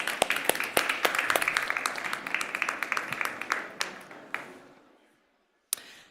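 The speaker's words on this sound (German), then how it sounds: "euch um einen herzlichen Applaus für die 3 bitten" Audience applause at a campus stage festival event, dense clapping for about four seconds that thins into a few scattered claps, then a brief silence and one last clap.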